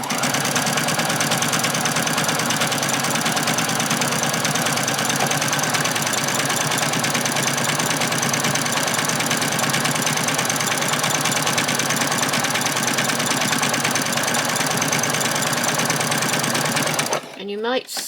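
A sewing machine runs continuously for several seconds at a steady fast hum while stitching through bag batting and lining fabric, loud and close, then stops abruptly near the end.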